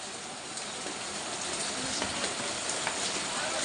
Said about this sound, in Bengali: বৃষ্টিটা মানে সেই ঝিরি ঝিরি বৃষ্টি পড়ছে